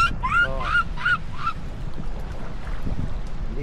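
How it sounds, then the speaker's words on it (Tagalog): Several honking bird calls, goose-like, from birds roosting in mangroves sound in quick succession early on, then fade into windy outdoor rumble and water noise. "may mga ibon dito na nahapon"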